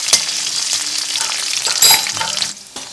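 Cloves, bay leaves and whole spices sauté in hot oil for Indian-style vegetable noodles, making a loud, close, crackling sizzle broken by a few scraping stirs, with no talk.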